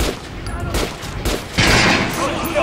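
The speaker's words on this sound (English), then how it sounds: "I'll try shooting from the center of the regular dummy's" Gunfire at a training dummy in the video game Metro Last Light, a few quick shots with a louder burst near the end, a voice speaking over the firing.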